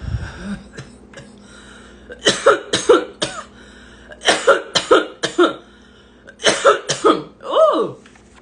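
Harsh, raspy coughing comes in three fits, each a cluster of several hacking coughs, close and loud, with brief quiet breaths between.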